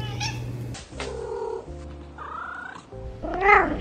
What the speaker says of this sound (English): Cats have a lot of varied vocalizations, some of the most varied in domestic animal species.